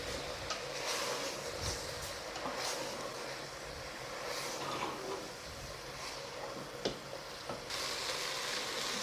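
Onions and mushrooms frying in a pan, a soft continuous sizzle with occasional stirring clinks and scrapes, fairly faint and close, with no talk.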